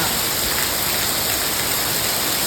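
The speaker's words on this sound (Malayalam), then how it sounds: "അടിപൊളി മഴ കോരിച്ചെരിയുന്ന മഴ" Heavy rain pours steadily, a dense, continuous hiss of water with no pauses and no voices.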